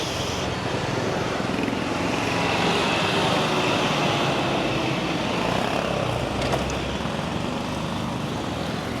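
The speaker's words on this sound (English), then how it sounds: "one thing I am learning about the Philippines is the traffic is noisy" Steady, dense roar of street traffic in the Philippines, engines and road noise blending into a continuous loud wash with a brief higher whine near the end, no voices.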